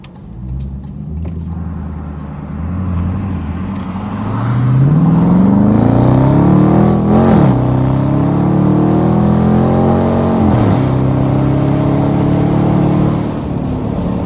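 A 2018 Dodge Charger RT Super Track Pak with a mid muffler delete revs loud and close, its throaty exhaust climbing in pitch, holding high, then dropping and rising again. No voices.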